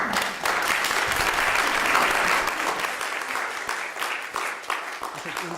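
Audience in an auditorium applauding before a piano concert, a full burst of clapping that thins toward the end into scattered individual claps.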